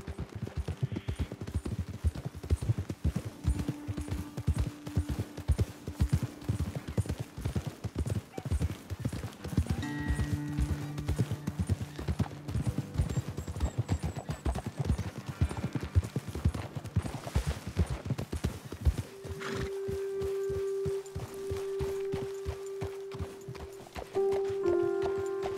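Horses being ridden up a trail toward a hilltop lookout, hooves clip-clopping in a steady, close rhythm throughout, with a whinny-like tone rising near the end.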